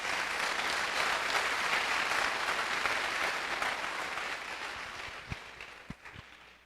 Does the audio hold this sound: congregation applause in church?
yes